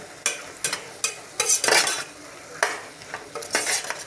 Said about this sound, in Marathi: याला ना आपल्याला एक 8 ते 10 मिनिटं असंच फ्राय करून घ्यायचं आहे